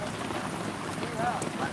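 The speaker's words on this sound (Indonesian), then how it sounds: "kan hujan sekarang, Bang." Steady rain falls throughout, a dense even patter with a faint hiss, while a voice speaks over it.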